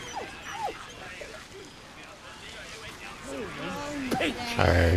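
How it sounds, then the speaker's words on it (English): Scared dog in Baldur's Gate 3 whimpering: a series of rising and falling high whines and small yips, fairly close, over game ambience, ending with a louder burst. "I am sorry that the dog is scared."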